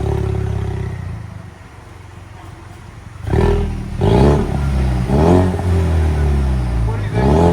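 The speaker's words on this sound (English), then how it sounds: "This is with the resonator cut off, so it's basically straight pipe." Ford Mustang EcoBoost with the resonator cut off, running essentially straight pipe, idles with a low rumble and then is revved hard several times in a row, loud and close, each rev rising and falling in pitch.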